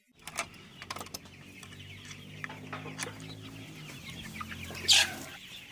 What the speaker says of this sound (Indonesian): saat ini kita sedang berada di kandang ayam punya bapak gua